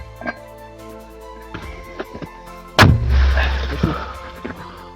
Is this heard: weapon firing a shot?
yes